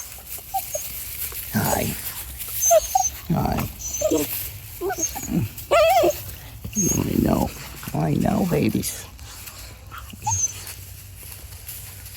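Young puppies on a farm whimper and give short yips in scattered bursts close by, mixed in with a person talking softly to them.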